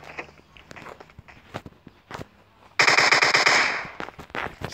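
Gunfire in the video game PUBG Mobile: a loud rapid burst of automatic fire near the middle, with scattered single shots and footsteps before and after it.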